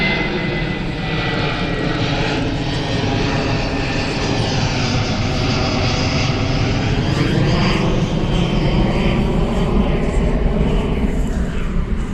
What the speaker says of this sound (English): Hey, there's another plane.